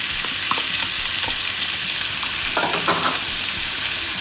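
Chopped onions and tomatoes with curry leaves fry in a pan for a banana-flower egg roast, a steady broadband sizzle with soft spoon scrapes and stirring clatter near the end.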